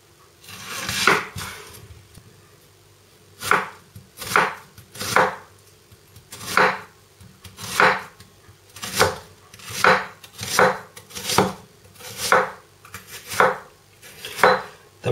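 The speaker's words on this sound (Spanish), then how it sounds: "vamos a proceder a picar las verduras para hacer la salsa de vino." A knife chops leeks and other vegetables on a board for a red wine sauce with pork cheeks: about a dozen crisp, evenly spaced strokes, close and fairly loud, with no talking.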